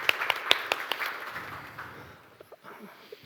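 An audience applauds speaker Vüqar Namazov at a business forum: a burst of claps, loudest at the start, then thinning out and fading to a few scattered claps.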